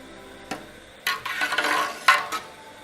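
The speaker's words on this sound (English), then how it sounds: "Now I'm going to stir in the fabric." Faded denim fabric stirred into a hot dye bath, with a few sharp knocks against the pot followed by sloshing, splashing stirs in short bursts.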